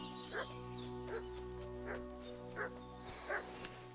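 A dog barks in the video game Kingdom Come Deliverance 2, several separate medium-loud barks spaced irregularly over a steady background hum.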